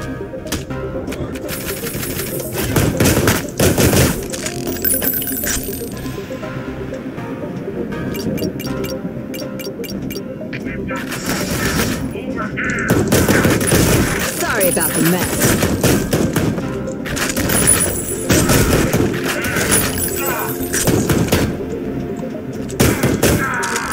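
Shotgun fire in the video game Ion Fury, bursts of loud blasts in clusters amid dense gunfire and game effects, with someone talking in stretches between and over the shots.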